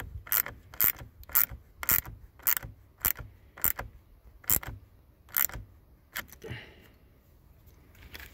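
A ratchet tightening the nut on a car battery terminal during post cleaning, heard as a close series of sharp clicking strokes in an uneven rhythm, then a softer rustle at the end, no talking.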